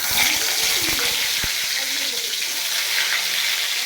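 Slices of white brinjal, coated in salt and turmeric, are lowered one by one into hot oil in a small wok, producing a dense, continuous, loud sizzle close by, with a few soft clinks early on.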